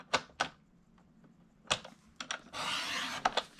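A paper trimmer slices through a sheet of craft paper in a quiet room, with a few sharp clicks and taps of positioning, then a sustained rasping cut lasting about a second, followed by two more clicks.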